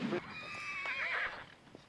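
A horse on a western film set lets out a clear, close whinny lasting about a second, rising and wavering before trailing off into faint background noise.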